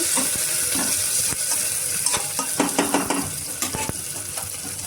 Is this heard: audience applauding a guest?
no